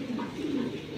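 A pigeon coos in a low, continuous, close rolling murmur that stays even throughout.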